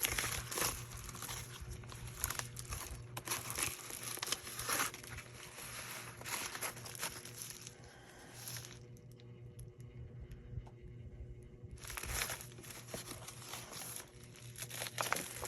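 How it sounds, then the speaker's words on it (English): Paper envelopes are pushed and stuffed into another envelope, giving steady crinkling and rustling paper handling up close, with a short quieter pause midway before the crumpling resumes. "I'm going to actually put all of these envelopes inside of her envelope."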